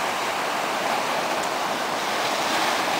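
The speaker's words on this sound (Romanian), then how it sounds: "Să auzim și valurile imediat." Sea waves wash onto the beach at Gulf Shores, heard as a steady, broad roar of surf from a moderate distance, with no distinct breaks or voices.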